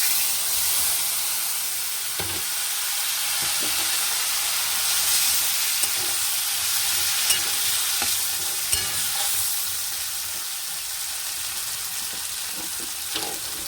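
Fish paste and pointed gourd seed paste fry in leftover oil in a kadai, giving a constant close sizzle and hiss broken by occasional scrapes and light clicks of a spatula, with no talk.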